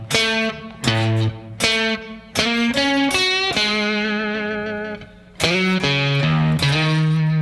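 A distorted electric guitar plays a complete intro riff from start to finish. Loud, punchy phrases are separated by brief gaps, with bends and slides, and a long sustained stretch sits midway.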